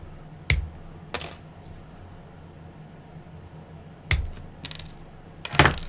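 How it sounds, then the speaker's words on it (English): Wire cutters snip through a small wire jump ring in a few sharp, close metallic clicks spaced apart over a quiet background. "And I can snip off a nice little jump ring there."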